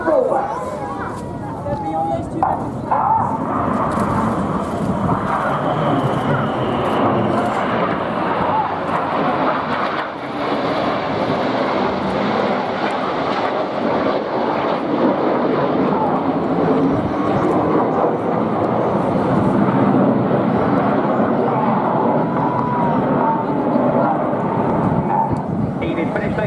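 RAF Red Arrows jets flying a rollback manoeuvre in close formation at an airshow, a steady, loud, sustained jet roar filling the whole stretch with a broad rumbling wash, while an announcer talks over it throughout.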